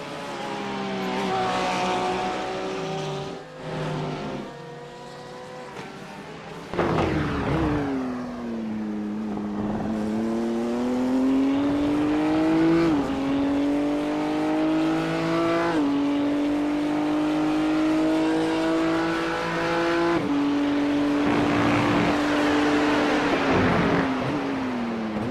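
Race cars at Circuit of the Americas in a sports car championship round, a Porsche among them, roar loud and close through a corner, engine pitch dropping on braking and rising again on exit as they pass in sequence.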